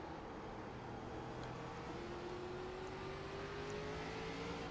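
ARCA race car engines in the iRacing video game hum faint and steady, with a slowly rising engine tone as the car picks its way back through the field on a short track.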